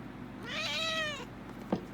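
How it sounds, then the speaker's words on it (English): A female cat gives one loud, drawn-out meow at full volume, close to the listener, followed by a small knock in a quiet room. "When she meows, it's at full volume."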